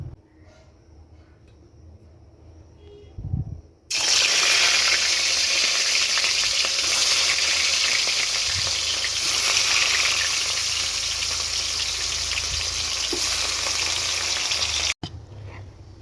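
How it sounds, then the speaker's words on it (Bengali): Rohu fish pieces rubbed with salt and turmeric hit hot oil in a kadai and burst into a loud, continuous, hissing sizzle that holds for about eleven seconds before cutting off abruptly, with quieter kitchen noise before it. "কড়াইতে তেল গরম করে সবার আগে মাছগুলোকে ভাজবো"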